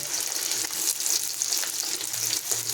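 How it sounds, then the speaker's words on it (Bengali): Onion cubes sizzling steadily in hot oil with garlic, a dense continuous hiss with faint scraping as they are stirred, close and unbroken with no talking. "পেঁয়াজের কিউবগুলো দিলে একটু নাড়াচাড়া করবো"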